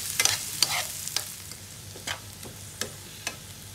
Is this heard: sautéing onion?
yes